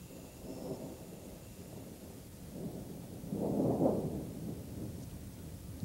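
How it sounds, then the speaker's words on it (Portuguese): Thunderstorm with rain returning after the dry season in the Maya Mountains, soft rain hiss under low rumbles of distant thunder that swell briefly in the middle. "Depois de quase 4 meses de seca, as chuvas voltam em grande quantidade."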